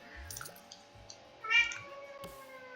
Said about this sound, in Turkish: Kedim yine bağırıyordu.